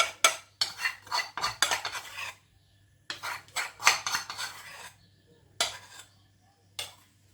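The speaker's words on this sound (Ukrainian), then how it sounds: "виливаємо на неї тісто за допомогою ложки. Розкидаємо всі решти, щоб нічого не залишалося." A metal spoon scrapes pizza batter out of a bowl into a cold frying pan in bursts of clinking and scraping, close and clear, separated by short pauses with no talking.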